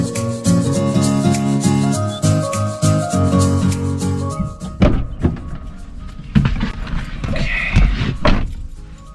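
A Ford Mustang's door thumps shut in a parking basement. It sits among shuffling, knocks and interior movement, with loud music playing over the first half.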